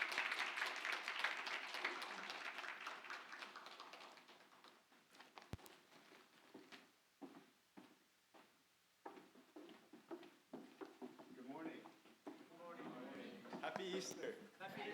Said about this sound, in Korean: 두 분에게 사랑과 격려의 박수를 부탁드리겠습니다.